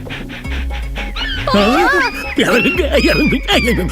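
A person imitates a dog with barking and yipping vocal sounds, loud and close, repeated in quick bursts amid other voices and background sound, as part of a comedy scene.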